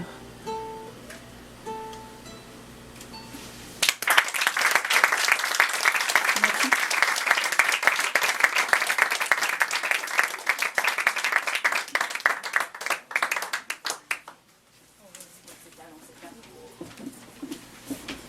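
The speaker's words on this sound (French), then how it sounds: "On les applaudit encore une fois, s'il vous plaît, mesdames et messieurs." An audience at an evening poetry and music performance breaks into sustained applause after a quiet opening with faint tones, the dense clapping lasting about ten seconds before fading to scattered claps and quiet.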